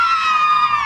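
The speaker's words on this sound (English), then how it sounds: "they cheering their team on" Carson High cheerleaders shout together in a loud, sustained high-pitched group cheer, close and continuous for a second.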